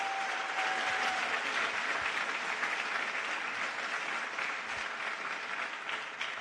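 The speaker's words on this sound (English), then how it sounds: "So let's give them one more round of applause to Purdue for 3rd place in design." An award ceremony crowd at Formula SAE Michigan claps steadily for Purdue's third place in design, a dense, even wash of applause that fades slightly at the end.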